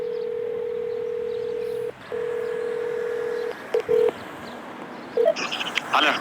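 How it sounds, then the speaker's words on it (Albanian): Telephone line during a call placed for a news report: a steady dial tone runs, breaks briefly, resumes, then gives way to several short dialing beeps and a few tones near the end. "Megjithatë ne po kontaktojmë atë përmes telefonit."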